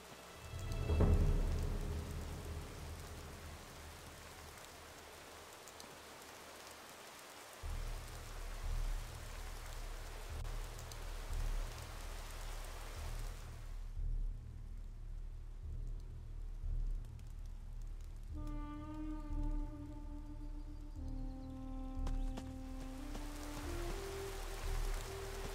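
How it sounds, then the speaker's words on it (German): Steady rain with a rumble of thunder in the Gothic II mod Returning: a loud thunder crash opens, then the rain pours continuously, joined later by soft tonal music, with no voices. "Diese Regengeräusche sind richtig beruhigend"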